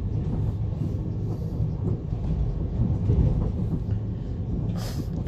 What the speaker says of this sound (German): Total ungewohnt hier mit dem Zug bis nach Oberhausen zu fahren